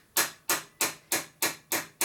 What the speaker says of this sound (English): Just take a ball peen hammer, hit it flat, you should be alright.